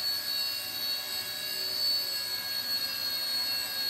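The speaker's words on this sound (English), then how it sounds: "Just picking up the revs now to keep it in the air." Steady high-pitched whine of a home-built micro UAV helicopter hovering, its motor holding a constant buzzing drone with no voices.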